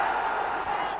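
Hearts supporters roar and clap at Tynecastle for Willie Gibson's goal in a 1989 match, a dense, continuous crowd noise heard from a distance.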